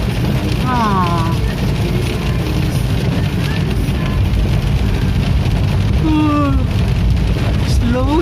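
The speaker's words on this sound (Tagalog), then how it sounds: "First time kong dumaan dito na malakas ang ulan." Heavy rain pours in a dense, continuous hiss throughout, heard from inside a moving vehicle with road rumble beneath and people talking at times.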